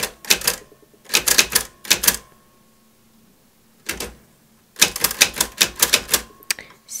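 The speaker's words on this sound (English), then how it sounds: "this is where I'm going to start typing" A We R Memory Keepers typewriter is typed in quick bursts of sharp clacking keystrokes, with short pauses between runs, close and clear.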